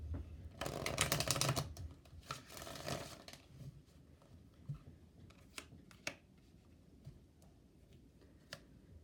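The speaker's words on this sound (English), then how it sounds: "We're going to pull one for your person, and then we're going to pull two for you." Angel oracle cards are shuffled briskly by hand in a soft, papery burst close by. Quieter separate clicks and snaps follow as single cards are pulled and laid down in a hushed room, with no talking.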